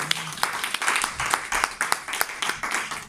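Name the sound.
congregation applauding and cheering in church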